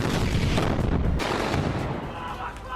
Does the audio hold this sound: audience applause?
no